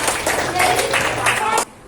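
Students in a classroom clap together in a quick, rhythmic series of close, sharp claps lasting under two seconds before stopping abruptly, with voices mixed in.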